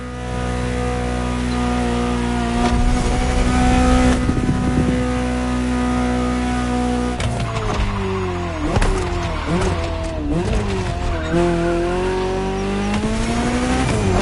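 Ferrari 288 GTO engine in The Crew Motorfest racing game, a loud sustained drone that shifts pitch as the car accelerates and changes gear, with tire noise and no talking.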